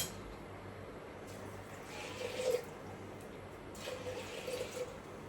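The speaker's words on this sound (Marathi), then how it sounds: "हे जवळ 2 पेले पाणी घातलं।" About two glasses of water running and pouring into a pressure cooker, a soft steady trickle with a couple of brief louder splashes, fairly quiet.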